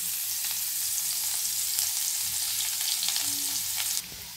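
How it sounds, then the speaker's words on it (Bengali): Nigella seeds and raw onion frying in hot oil, a steady loud sizzle with occasional stirring scrapes, continuous until it drops off abruptly near the end. "এবার তেলে সামান্য পরিমাণে কালো জিরে দিয়ে দেবো ফোড়ন, আর দেবো কাঁচা পেঁয়াজ।"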